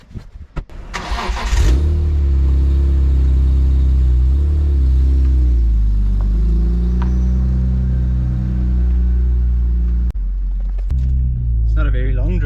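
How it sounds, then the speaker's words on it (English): A BMW M3 engine cranks and fires, then settles into a deep, steady rumbling idle and drive close by, with a brief dip near the end. "I thought I'll take you for a little drive in the M3."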